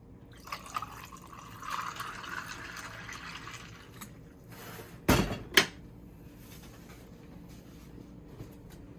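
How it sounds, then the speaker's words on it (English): Ice gathered and lemonade poured into a glass while preparing a quick meal in a kitchen: soft clinks and a light liquid trickle, then two sharp close knocks around the middle, with no talking. "I just catch me some ice and gonna pour my lemonade out"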